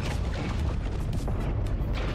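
Gunfire striking a mech's leg in a video game, a dense continuous rumble of heavy booming impacts, loud and close throughout.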